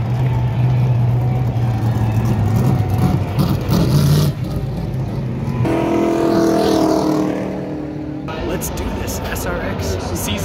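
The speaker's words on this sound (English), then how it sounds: "Moments away from firing the engines." Race car engines at Berlin Raceway for an SRX event rumble and rev, tones shifting and changing between segments, while a voice talks over the loud motor sound.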